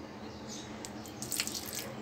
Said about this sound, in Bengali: আমি আরেকটু সামান্য একটু পানি দেব